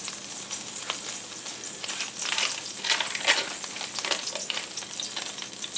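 Steak searing in a hot cast iron pan on the stove, a loud, continuous close sizzle with bursts of crackling spatter and no talk.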